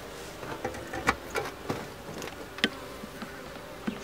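Honeybees at an opened beehive during a brood check, a steady low hum with several sharper buzzing passes close by, moderately loud and with no talk.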